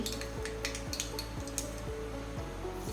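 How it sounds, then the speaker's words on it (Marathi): Mustard seeds dropped into hot oil while tempering a raw mango kadhi, giving a steady crackling sizzle with light metallic clinks of a utensil over a constant low hum. "तेल चांगलं गरम झालेलं आहे. आपण यामध्ये टाकूया मोहरी"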